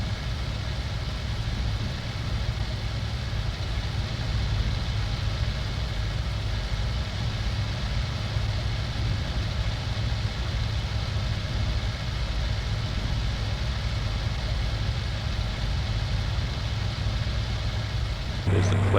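Aircraft engines in the flight combat game IL-2 Cliffs of Dover Blitz Edition, a steady, loud, unchanging drone with a deep rumble that holds throughout with almost no rise or fall.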